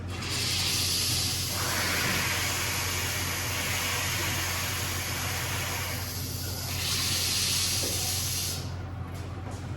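Faucets in a women's bathroom being winterized are opened, and air and water rush out in a loud, steady hiss that swells and eases over several seconds.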